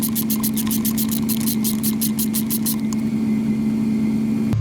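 A 2011 Mazda CX-7 engine with a starting problem, spark plugs and coils just reinstalled, churns and runs with a steady close mechanical drone and a rapid ticking rattle before cutting off abruptly at the end.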